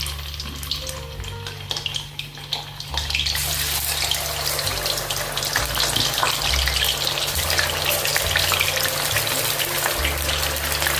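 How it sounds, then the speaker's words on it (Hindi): Paneer cubes drop into hot cooking oil, and after a quieter start a loud, steady sizzle of frying takes over and continues without a break. "तो अभी हम पनीर को तलेंगे।"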